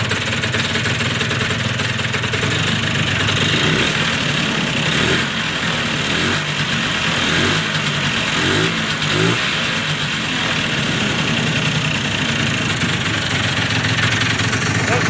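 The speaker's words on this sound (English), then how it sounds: "But it starts and idles good." An engine runs steadily at idle throughout, a continuous broadband mechanical hum with a few slight rev swells in the middle, fairly loud and close with no talking over it.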